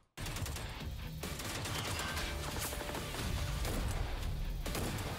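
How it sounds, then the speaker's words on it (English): An S12K shotgun fires in the PUBG New State mobile battle royale game. The blasts sound loud and dense, rolling into a sustained barrage with a short lull before the firing resumes, and no voices are heard. "S12K shotgun."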